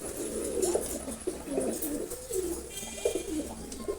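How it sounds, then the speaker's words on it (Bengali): Several male pigeons coo in soft, rolling low calls, repeating in overlapping bursts close by, with a faint steady background hum. "নর কবুতর"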